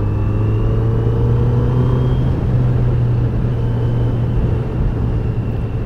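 A 2020 Kawasaki Z900 motorcycle ridden in fifth gear, with a loud, steady engine drone and low rumble under constant wind noise, close up and without talk.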